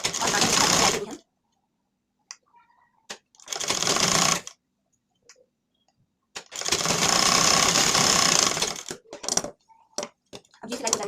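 Sewing machine stitching a button placket onto the front of a lined blouse, running in three loud bursts of rapid needle chatter separated by silences and small clicks of fabric handling.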